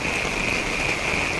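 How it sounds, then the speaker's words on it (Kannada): Rain falls steadily during a rainy night, a soft even patter with a constant high insect trill running through it, no voices. "ಮಳೆ ಬರ್ತಾ ಇದೆ"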